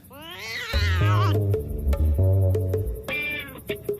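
A cat meows several times up close, long drawn-out calls with a few shorter mews, fairly loud and clear with no talking.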